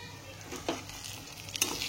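Stuffed capsicum fries in a pan over a low flame, giving a quiet steady sizzle with a couple of faint stirring clicks.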